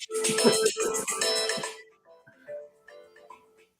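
An incoming call sets a phone ringtone playing loudly with a bright, tonal melody for about two seconds, then it cuts off, leaving quieter scattered tones and faint background sound.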